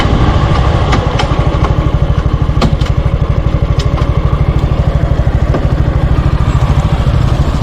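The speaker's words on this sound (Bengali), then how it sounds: "একবার এক্সস্ট নোটটা একবার আমি শুনিয়ে দেবো" A 2022 Suzuki Gixxer SF 150 motorcycle idling through its dual-tip exhaust: a loud, close, steady fast-pulsing burble that runs unbroken the whole time, with no voices.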